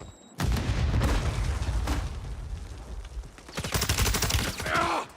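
Dense video-game gunfire with rapid machine-gun bursts and booming impacts, loud and close, building into a fast rattling volley near the end in a battle-royale match.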